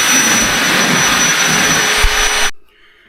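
A vacuum cleaner running over a loft floor close by, with a loud, steady roaring whine that cuts off abruptly near the end.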